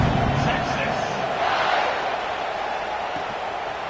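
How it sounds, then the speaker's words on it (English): A stadium crowd in the NCAA 26 football video game buzzes after a touchdown score, a dense roar of cheering that swells early and then settles into a sustained, broad murmur. "this crowd is buzzing after that last score"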